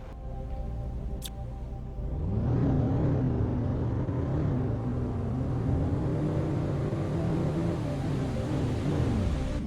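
A car in The Planet Crafter starts up after a quiet hum and a brief click, then holds a steady low engine drone with slight rises in pitch as it drives along.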